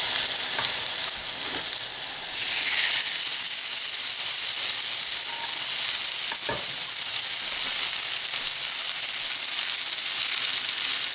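Pieces of pork sizzle steadily in a hot pan, a continuous close hiss of frying with occasional faint clinks and pops, no voices.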